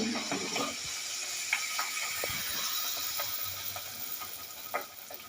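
Malpua batter sizzles and crackles softly in hot oil in a pan, a steady, quiet frying hiss with occasional sharper pops while a voice talks nearby.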